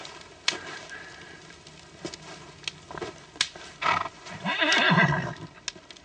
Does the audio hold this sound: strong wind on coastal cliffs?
no